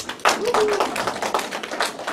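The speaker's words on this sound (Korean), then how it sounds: "동의하시면 박수" A small audience at a talk breaks into brief clapping, a loose patter of hands with a few distinct claps, fairly close, while a faint voice is heard near the start.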